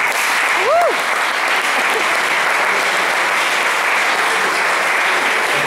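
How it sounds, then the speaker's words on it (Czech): Loud, dense audience applause fills a hall at an award event, a continuous even roar of clapping that holds steady throughout, with a brief rising whistle-like tone near the start. "A za to si určitě zaslouží váš potlesk"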